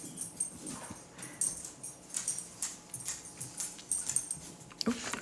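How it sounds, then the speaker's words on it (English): A dog whimpering for attention indoors: faint, intermittent soft whines and snuffles mixed with light pattering, tapping and scratching sounds, close by. "My dog wants my attention."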